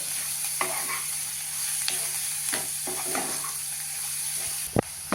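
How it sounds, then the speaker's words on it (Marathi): A jowar and bajra flour dosa mixture with coriander and salt is stirred in a pan over a medium flame, giving a steady low sizzle with scattered scraping stirs and a sharper clatter near the end, with no voices. "सगळं मिक्स करून आपल्याला थोडस वाफवून घ्यायचं अगदी दोनच मिनटं"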